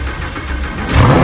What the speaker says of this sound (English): You might have been the first person in history to catch a Lamborghini. If it turns on.